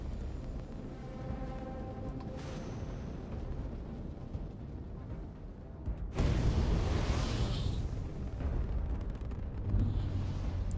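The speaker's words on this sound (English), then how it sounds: "Why are they shooting at me?" An enemy ship fires on the player during space combat in the game Starfield, a continuous booming rumble of blasts that swells suddenly louder halfway through and stays heavy to the end.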